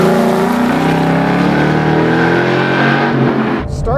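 A Ford Mustang Boss 302 on track at Laguna Seca, its exhaust a loud, close engine drone rising steadily in pitch under acceleration before a brief voice cuts in at the end.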